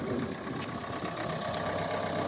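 A cheap £200 used car's engine idles smoothly and steadily at moderate distance, a faint continuous mechanical hum and rattle with no talking over it.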